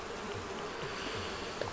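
Wasps buzz steadily in Animal Crossing: New Horizons, a continuous droning hum with faint pulsing wingbeat texture, heard alone with no talking.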